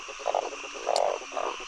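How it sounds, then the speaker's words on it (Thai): Frogs croaking at night during frog catching with villagers in a rural field, close rattling croaks in three short bursts over a steady insect-like drone, plus one brief high chirp. "กบอยู่นี่กบอยู่นี่ก็มี3-4 ตัว"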